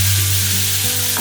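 Crushed green chili and ginger thecha sautés in a pan with a steady, close sizzle and a low sustained hum, running continuously without any talk for about a second.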